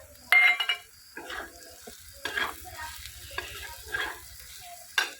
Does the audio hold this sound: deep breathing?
no